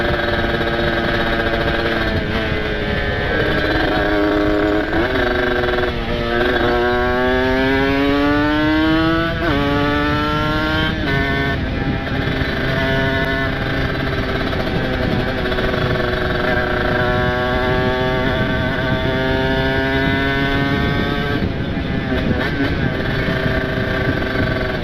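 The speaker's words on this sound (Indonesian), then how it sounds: "Enak banget ini settingan motor. Memang kalau udah panas ini si Bambang mesin," Tuned motorcycle with a ported special-spec engine and aftermarket exhaust rides along a patched road, its loud, steady engine note rising and falling through repeated gear changes and throttle sweeps for the whole stretch.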